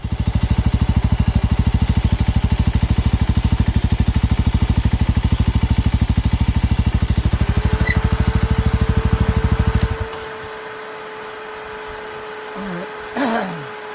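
A small motorcycle on a road in Sulawesi drones with a steady, rapid pulsing engine note for about ten seconds, then drops away to a quieter rumble and light road noise.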